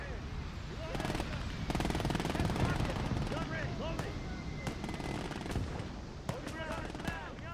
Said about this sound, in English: Boy, that MG is horribly inaccurate.